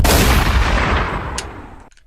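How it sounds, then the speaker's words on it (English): Cannon fire from a pirate-themed robot in the Robot Arena 2 combat game: a loud, dense blast of booming gunfire that rolls on for nearly two seconds before cutting off abruptly, with no talk over it. "Cannons."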